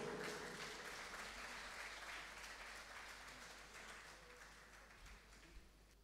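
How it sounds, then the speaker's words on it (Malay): Audience applause at a Palestine poetry night at a Malaysian university, a dense crowd clapping steadily throughout and slowly fading a little toward the end. "Satu tepukan."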